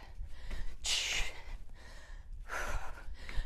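Two heavy breaths during a HIIT cardio workout, each a loud, breathy exhale separated by a pause, close to the microphone.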